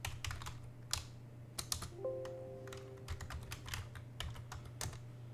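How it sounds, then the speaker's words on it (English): Command being typed on a computer keyboard in a Linux terminal session, a quick irregular patter of close key clicks with brief pauses over a low electrical hum. "If I type host name,"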